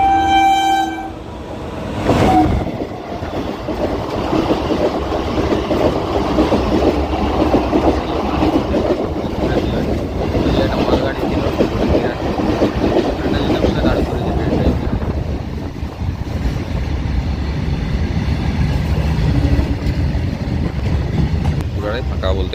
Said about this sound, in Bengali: দুটো ট্রেন হেভি আসছে স্পিডে